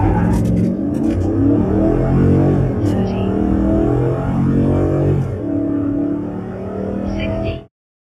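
Car engine revving and pulling hard on the road for a 0-60 test run with a K&N cold air intake, loud and close with rising and falling engine tones before cutting off abruptly.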